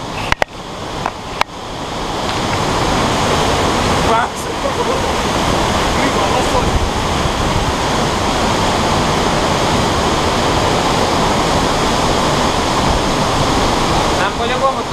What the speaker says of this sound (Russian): подошли к водопаду